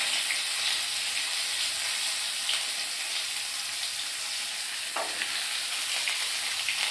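Cumin, green chilli, potato, tomato and onion fry in a pan with a steady, loud sizzle and hiss that continues throughout with no talking.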